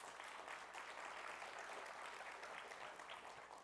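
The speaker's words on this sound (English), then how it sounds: "Let's give Carrier a round of applause, please." Conference audience applauding a lead sponsor at a New York keynote event; dense, steady clapping from a crowd filling the room, evenly sustained throughout with no voices over it.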